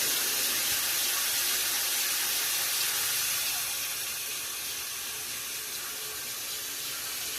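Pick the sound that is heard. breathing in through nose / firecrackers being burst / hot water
hot water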